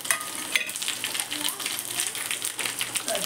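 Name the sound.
sesame seeds and curry leaves sizzling in hot oil tempering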